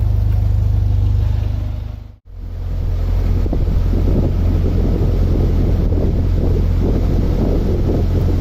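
Strong wind buffets a narrowboat, a loud continuous roar of microphone wind noise with deep rumbling gusts, briefly dropping out for a moment before surging back.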